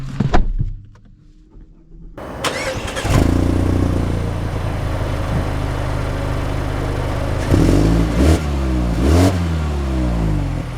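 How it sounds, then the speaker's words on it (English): A base-model 2025 Mazda 3 hatchback pulls away and accelerates while driving, its engine note climbing in steady continuous drone with rising pitch sweeps toward the end, close and moderately loud, no talking. "Let us set off in the Mazda 3 hatchback"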